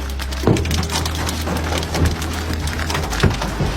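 Dense, steady patter of hailstones striking surfaces in Aubenas, Ardèche, France, with sharper louder cracks of impact now and then, continuous and close.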